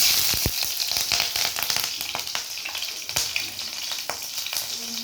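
Chillies dropped into hot oil for a bitter gourd, potato and onion fry, crackling and spitting loudly with sharp pops scattered over a dense, constant sizzle.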